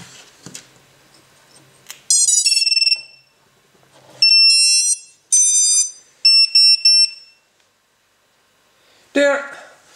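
An SP Racing F3 Evo drone flight controller, powered by a LiPo battery, chirps out a series of short electronic beeps and tone bursts, several in quick succession, with a brief voice near the end.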